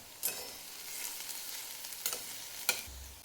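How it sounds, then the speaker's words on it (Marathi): Onion, green chili and curry leaves fry in oil with a faint, even sizzle and a few sharp stirring taps. "कांदे, कांदा आणि हिरवी मिरची तेलामध्ये भाजून घ्यायचे."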